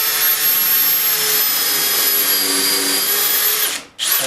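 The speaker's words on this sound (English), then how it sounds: "I'm going to toenail a couple of screws in it." Power drill whining loudly and steadily as it toenails screws into wood for a pull-behind camper, cutting off abruptly near the end.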